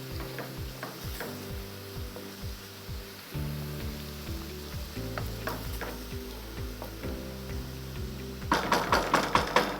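Garlic sizzling in olive oil in a pan for pasta aglio e olio, a soft continuous crackle punctuated by rhythmic tapping and scraping of a utensil stirring, growing busier and louder near the end.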